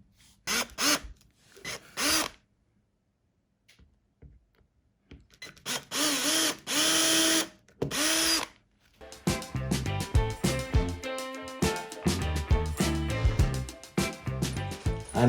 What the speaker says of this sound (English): We're making the pre-holes.